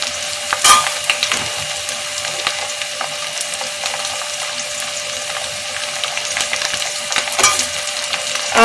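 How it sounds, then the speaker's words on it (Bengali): Crushed garlic, ginger and chopped tomato masala frying in a pan for prawn biryani, a steady close sizzle with occasional stirring scrapes and crackles, no voices. "দিয়ে এবার এটাকে ভালো করে ভাজতে থাকবে"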